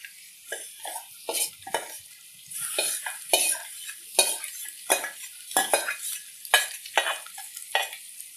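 Chopped boiled egg pieces frying in a pan for egg curry, with repeated close scraping and stirring strokes over a steady hiss, each stroke a sharp burst in an irregular rhythm.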